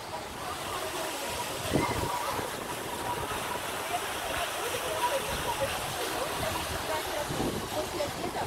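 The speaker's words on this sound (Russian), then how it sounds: "Это из разных фигурок у нас струйки воды выходят." Water jets spray from figures at a resort splash park in a continuous hiss and patter of falling water, with voices talking faintly under it.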